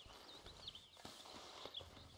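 Horse hooves walking in the Red Dead Redemption 2 video game, faint steady clip-clop steps at a relaxed pace with soft bird-like chirps in the background.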